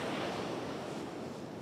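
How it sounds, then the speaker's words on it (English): Ocean waves crash along a Cape Cod shore as a continuous, fairly soft wash of surf with some wind noise, steady throughout and with no voices. "there's nothing better than being out here listening to the crashing waves"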